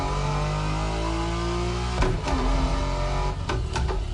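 A Lexus car engine revs up under acceleration with a steady rising drone, then breaks into sharp shifts and surges as it downshifts, loud and close with no talking.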